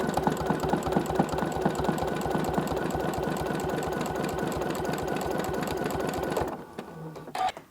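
Sewing machine stitching free-motion quilting on a small thread-painted landscape piece, a fast steady mechanical chatter that runs continuously and then stops abruptly near the end, followed by a few faint clicks.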